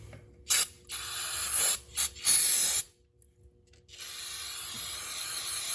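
Brake cleaner sprays out in several short, sharp hissing bursts during a motorcycle engine oil change on a Lifan KPR 200, followed by a longer hiss, with quiet pauses between bursts.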